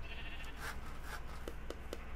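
Sheep bleating on a Minecraft farm: a few short bleats repeat over a steady background hum, moderately close, with no talk.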